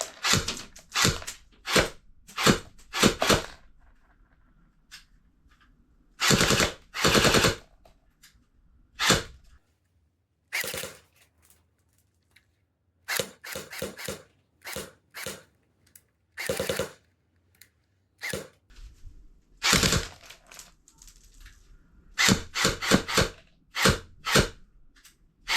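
Sharp bursts of airsoft gunfire from an ESHOOTER Flare Mono tracer unit, switching between single shots, short bursts and sustained full-auto strings across three firing modes, loud and close with silent gaps between volleys.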